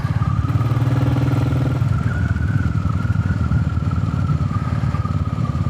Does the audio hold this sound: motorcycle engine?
yes